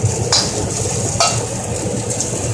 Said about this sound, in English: We're going to let it fry up for just a minute or so.